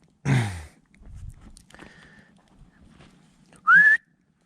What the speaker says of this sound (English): The man repeatedly whistled for his dog to come back.